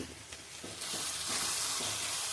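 Onions sautéing in oil left from frying chicken, a steady soft sizzle that swells slightly, with a few faint stirring scrapes and no voices.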